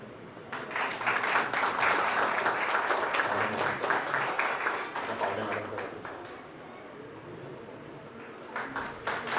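Loud, sustained applause from a ceremony audience at an Indigenous Peoples' Day event in Nagpur, with many hands clapping densely for several seconds, then thinning slightly before swelling again at the end.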